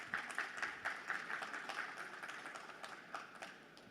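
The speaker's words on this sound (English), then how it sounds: "Let's give them a round of applause" Faint audience applause after a partnership is announced at an ecommerce export session, a thin scatter of claps that fades out over a few seconds.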